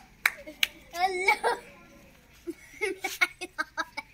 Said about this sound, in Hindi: तालियां तालियां तालियां